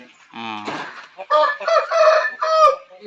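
A fighting cock of the red Errana breed, being raised for a Sankranti festival cockfight, gives a few loud, close calls in quick succession, with harmonic squawking and clucking bursts and no talk.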